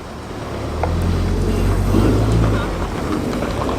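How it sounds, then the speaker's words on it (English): Two Ford Escort RS Turbo Series 2 cars, based on the Mark IV Escort, pull away at a car meet, a low steady engine rumble rising briefly in the middle and then fading as they leave, with wind noise throughout. "Escort is departing. Make that 2 escorts departing."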